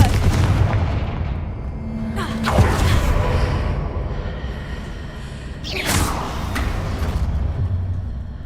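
Fiery blasting spell cast in a wizarding adventure game, with sharp booming blasts at intervals over a constant rumbling game backdrop and a whooshing rush as each hit lands.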